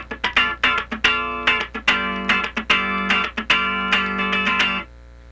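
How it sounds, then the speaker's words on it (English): Funk rhythm on electric guitar, with repeated choppy chord strums mixed with longer held tones, played close and clean, ending in a brief silence. "now let's play a rhythm part that has a little bit longer tone with the left hand"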